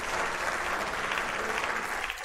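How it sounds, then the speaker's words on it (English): A crowd at a live-streamed ball game applauds after a near miss, a continuous, fairly faint and distant roar of clapping that holds steady to the end. "I'm giving him a round of applause"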